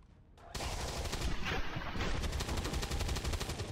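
Sustained automatic gunfire from the XCOM 2 video game erupts after a brief quiet start, a loud rapid rattle of shots that runs on continuously with dense, pounding bursts.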